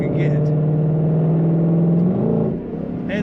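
A 2022 Ford Mustang Shelby GT500 coupe engine idles with a loud, deep, steady rumble close by, then its pitch shifts briefly near the end.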